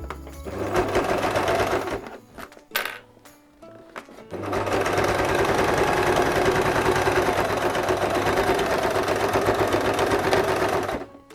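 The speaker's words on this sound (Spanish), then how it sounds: "bajamos el prensatela y continuamos cosiendo" A sewing machine stitches fabric for a zippered mini crossbody bag, its motor buzzing steadily in two loud runs separated by a short pause with faint clicks, close and alone.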